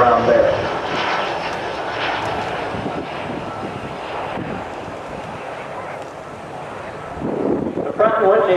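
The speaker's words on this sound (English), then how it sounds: "it looks like Pete's doing a high-speed pass here" The turbofan engines of a White Knight Two aircraft roar steadily during a high-speed pass at an air show, a broad sustained rush with wind buffeting the microphone and a commentator talking over it.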